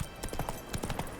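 Steady clip-clop of a horse's hooves in The Witcher 3, a quick even trotting rhythm of several footfalls, moderately close, alone with no talk.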